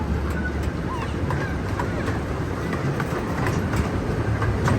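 A zoo train rolls over a trestle with a steady rumble and rhythmic clickety-clack of wheels on the rails. The sound is loud and continuous, with faint background voices.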